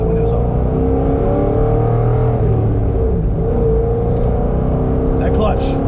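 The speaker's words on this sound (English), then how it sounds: "Let's see what it sounds like with the windows up." A modified Corvette C6 Z06 with a cammed LS7 V8 and long-tube headers drones and rumbles loudly from inside the cabin with the windows up, a steady, choppy engine note with harmonics shifting as it pulls.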